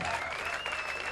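Audience applause at a live jazz-fusion concert, with a steady dense wash of clapping from a crowd throughout the short burst.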